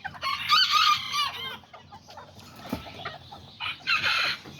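Chickens clucking and crowing in a backyard flock of Aztec and Serama bantams, including a young rooster, with busy bursts of nearby calls at the start and end and quieter farmyard noise between.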